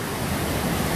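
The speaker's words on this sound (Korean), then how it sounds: "지리산 한신계곡의 첫 폭포" The first waterfall of Hansin Valley on Jirisan roars steadily, a dense, even rush of falling water filling the whole moment without pause.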